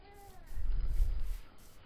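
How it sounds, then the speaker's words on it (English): A short, soft cat meow from a video game sounds once over a faint hum of background music. "Oh, did you hear a cat?"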